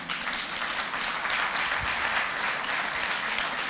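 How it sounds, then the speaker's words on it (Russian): Audience applause at a company leaders' awards event in Turkey, a dense, even wash of many hands clapping continuously at moderate distance, with no voices over it. "Виктор, это вам аплодисменты."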